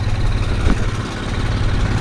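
A vehicle engine idles close by with exhaust fumes present at a field edge, giving a loud, steady, low rumble that runs unbroken throughout without any revving.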